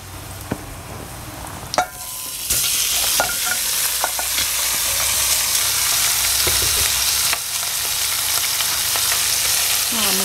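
Pork hock drops into a hot cast iron pot with garlic and starts frying, a sharp clatter followed by a loud, steady sizzle with occasional scrapes and knocks close by.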